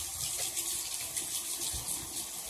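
Cold water runs steadily from a tap in a continuous close-up gush with a bright, hissing splash and no pauses.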